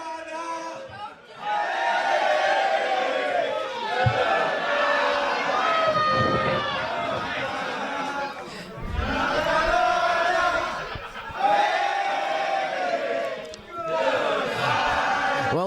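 A wrestling crowd at a live show jeers Emory in loud, surging waves of shouting, rising and falling with brief dips, while a commentator's voice runs over the noise.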